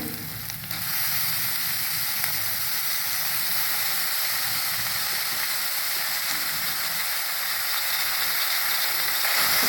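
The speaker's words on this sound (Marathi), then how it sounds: "आपण आता मेथी टाकून घेऊया" Fenugreek leaves land in a pan of fried onions, setting off a loud, continuous close sizzle that hisses steadily for several seconds with no talking.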